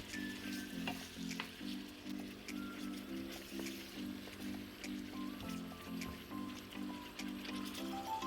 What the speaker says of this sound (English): Please stir to mix the meat and the masala for 5 minutes.